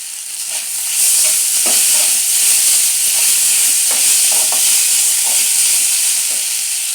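Flattened rice is tipped into a pan of fried onions for poha upma and stirred, giving a steady hiss and sizzle with soft scraping stirs, loud and close, with no voices.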